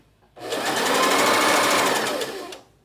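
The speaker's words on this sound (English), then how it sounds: "I then sewed these pieces together at the shoulder seams." A sewing machine runs in one continuous burst of about two seconds, stitching the shoulder seams of a vintage-style doll dress: a loud, close whirring hum that starts abruptly and then stops.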